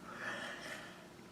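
A single short, breathy vocal yawn sound, drawn in and released softly, imitated by a voice rather than a natural yawn.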